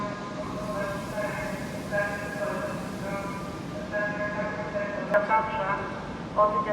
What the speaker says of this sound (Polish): I wjeżdża pociąg TLK Sudety do Krakowa.